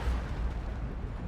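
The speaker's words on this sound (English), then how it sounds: "There's a Manticore Strike." Manticore Strike artillery barrage in the strategy game Dawn of War 2: Retribution, a low rumbling wash of distant booms and blasts, fairly faint and continuous for a brief moment.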